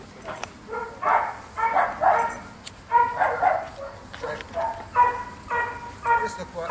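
A dog barks in a series of short, repeated yelps and barks during an outdoor training lesson, fairly close and moderately loud, with a person's voice mixed in between.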